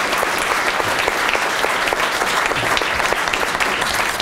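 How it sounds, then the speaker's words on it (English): Audience at a cannabis policy panel breaks into loud, sustained applause, dense clapping filling the room evenly from start to finish. "Applause, please."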